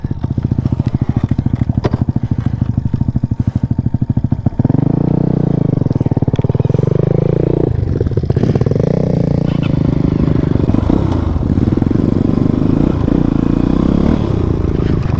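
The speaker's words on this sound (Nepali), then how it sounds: "टक्क बाइक चेक गरेर हामी फेरि निस्किसकेको छौँ" Motorcycle riding an off-road dirt trail toward Topthumki in Morang, Nepal, with a close engine that sputters at first, then revs and climbs steadily with rises and dips in pitch, along with some clatter and a faint voice.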